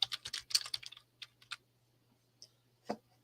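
A search being typed on a computer keyboard, a quick run of close, clicky keystrokes followed by a few isolated taps in a quiet room over a faint low hum.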